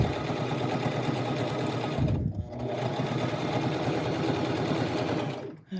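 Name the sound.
Brother LX 3817 sewing machine stitching back and forth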